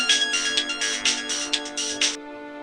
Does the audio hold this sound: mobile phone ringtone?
yes